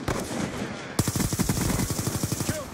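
An M27 rifle fires in a video game, with a rapid, even burst of automatic shots rattling close and loud after a moment of background game noise.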